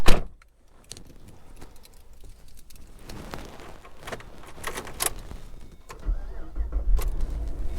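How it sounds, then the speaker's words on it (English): A 2009 Pontiac G8 GT opens with a sharp door thump, then small clicks and rustles inside the cabin, and its engine starts and builds into a louder, rising rumble near the end. "Car starts right up."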